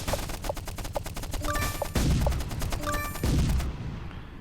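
Rapid gunfire during a tank battle in the stickman war game Stickman Trenches, with quick repeated shots, a few heavy booms and metallic ringing impacts, loud and continuous until it cuts off.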